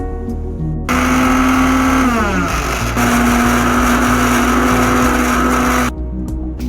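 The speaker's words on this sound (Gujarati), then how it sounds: "હવે આ બધાનું પેસ્ટ બનાવી લઈશું" A blender grinding pointed gourd seeds with coriander and spices into paste, its motor loud and close, revving in two long runs with a short drop in pitch between, then stopping.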